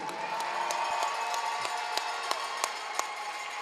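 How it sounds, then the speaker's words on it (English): A home crowd cheers at a university track and field national championship, a steady roar of voices with scattered claps and sharp taps popping through the continuous din. "Hear that home crowd"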